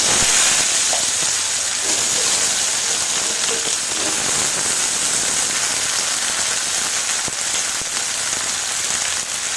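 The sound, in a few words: vegetables (arum) frying in hot oil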